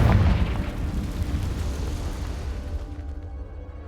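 A Confringo explosion spell detonates in Hogwarts Legacy: a loud, close boom at the start that rumbles and slowly fades over the following seconds.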